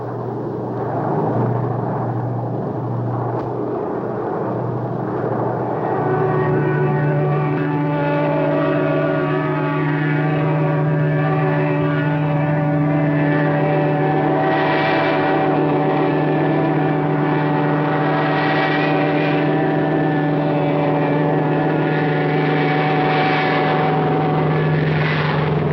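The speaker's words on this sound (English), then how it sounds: "They stripped their wing tanks and went in, dive bombing." P-38 fighter planes drone steadily on a World War II bombing run over Ploiesti, a dense propeller-engine roar that swells slightly as they dive.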